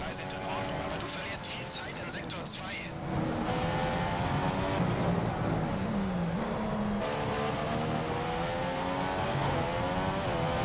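An F1 car in the F1 2015 racing game on Singapore's Marina Bay Street Circuit, its high engine whine falling off throttle and then holding steady, with someone talking over it.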